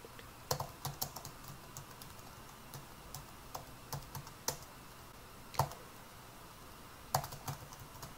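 Close, quiet typing on a computer keyboard, with irregular clusters of soft key clicks and a few sharper taps spread over several seconds in a still room.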